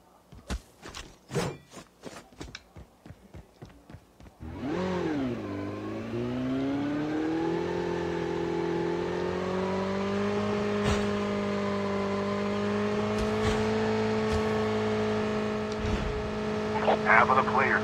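A vehicle engine in the video game COD Mobile starts up after a few seconds of talk and clicks, then drones steadily and loudly with a rising, revving hum and scattered game sounds on top.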